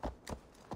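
Horse hooves clip-clop over a rough, steep road in Assassin's Creed Valhalla, with three quick, muffled hoofbeats and no talk.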